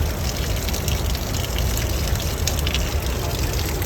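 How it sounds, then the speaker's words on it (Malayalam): Natural spring water near the Aharbal waterfalls in Kashmir pours steadily into a bottle, a loud continuous gushing splash with no talking over it. "നാച്ചുറൽ സ്പ്രിങ് വാട്ടറാണ് നമ്മൾ ഈ കുപ്പിയിൽ നിറക്കുന്നത് കേട്ടോ"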